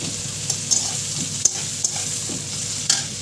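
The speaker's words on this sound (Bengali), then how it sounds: "এখন পেঁয়াজটা একটুখানি ভেজে নেব" Onions fry in a pan with a constant soft sizzle, punctuated by a few sharp clicks of a utensil stirring and tapping against the pan, close and without talk.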